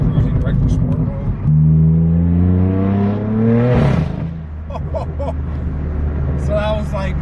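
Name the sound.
straight-piped car exhaust accelerating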